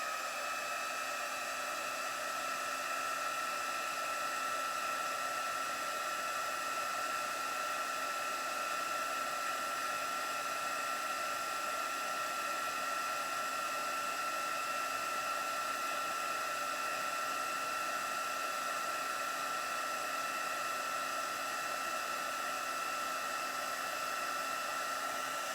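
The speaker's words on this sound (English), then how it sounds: "We'll grab the heat tool" A heat embossing tool blows a steady, loud whirring hiss for a long unbroken stretch while embossing a stamped birthday card, close by and with no talk.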